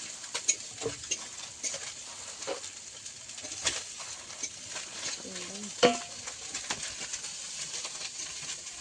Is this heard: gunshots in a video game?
no